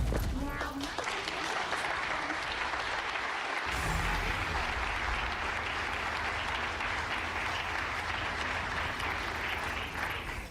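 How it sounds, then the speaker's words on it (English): An audience breaks into sustained applause, a dense wash of clapping that swells and holds loudly for several seconds while voices talk over it. "they're clapping before the shit is even over"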